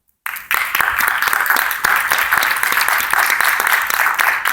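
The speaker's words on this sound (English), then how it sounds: "they deserve a round of applause" After a brief silence, an audience at a school board of education meeting breaks into applause for honored teachers and staff, loud, close clapping with distinct individual claps, building and holding steady.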